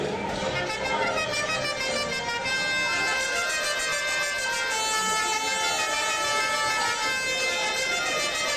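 A herald trumpeter's brass fanfare at a tournament show, a sustained bright trumpet tone held loud and steady throughout, with no pause.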